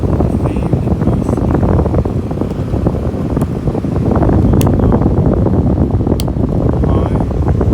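A room air conditioner's fan running on high makes a loud, steady broadband rush of moving air that stays close and continuous throughout, with no talking over it.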